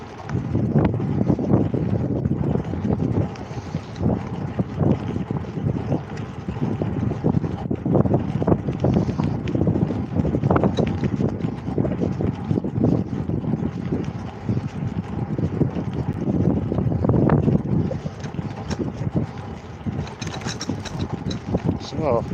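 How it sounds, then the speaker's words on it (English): Strong, steady wind buffets the microphone while riding a vintage bicycle on a country road, a continuous loud low rumble with mechanical ticking and rattling from the bike mixed in throughout. "that wind's bad"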